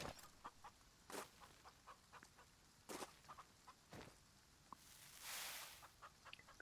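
Chickens cluck in a farming video game, with short repeated clucks and a few sharper squawks scattered across the stretch and a brief burst of louder noise near the end, fairly quiet, with no one talking.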